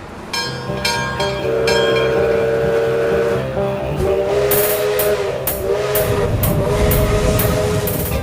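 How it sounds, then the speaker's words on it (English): A century-old steam locomotive in Ecuador rumbles close by at a station platform, its whistle sounding in sustained tones over rhythmic chuffing that grows more pronounced toward the end. "a century-old steam locomotive pulled up to the platform"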